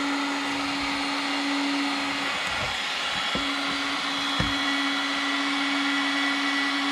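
Milwaukee heat gun running steadily with a constant fan whine and airflow hiss, close and loud throughout, with a few faint knocks partway.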